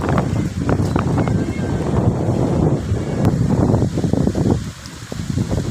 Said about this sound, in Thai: ลมมาพายุมาอย่างแรง